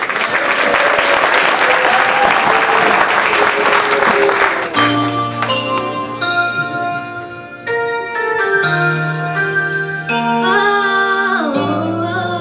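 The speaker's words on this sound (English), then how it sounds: "Let's hear it for Victoria and Katie" An audience at a junior all-star singers' performance of classic songs claps loudly and steadily for several seconds, then sustained music with bell-like tones takes over.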